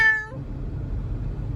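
Critter the cat gives a single short, close meow at the start, followed by low rumbling background noise.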